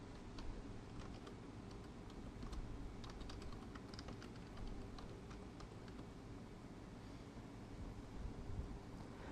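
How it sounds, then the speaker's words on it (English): Typing on a computer keyboard, faint scattered key clicks in irregular bursts over a low background hum, quiet and somewhat distant. "Please type arctography in the name text box."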